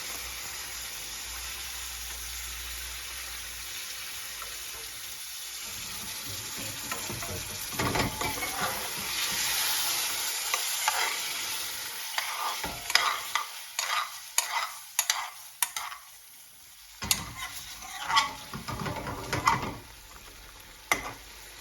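Base gravy sizzles and hisses in a hot pan for a restaurant-style chicken tikka balti. A steady frying roar is broken by scraping stirs and bursts of spluttering that grow busier toward the end.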